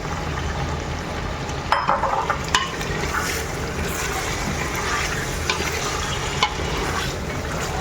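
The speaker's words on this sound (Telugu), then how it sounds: "ఇప్పుడు బంగాళదుంపలు యాడ్ చేసుకోవాలండి." Large chunks of potato go into a pot of frying Arabic-style mutton curry with vegetables, giving a steady sizzle with clattering stirring and a few sharp knocks of spoon against pan, no talking.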